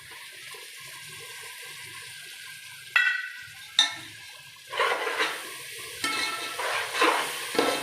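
Curd being stirred into a sizzling chicken biryani masala in a pan, with wet scraping and squelching bursts that come in uneven waves over a steady frying hiss, and no one talking.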